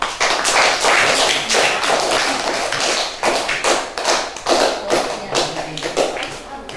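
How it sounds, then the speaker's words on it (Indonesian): A class of students claps hands together in a classroom language lab, giving loud, dense, close clapping that swells and dips in uneven bursts for several seconds with no talking. "untuk itu kita berikan tepuk tangan"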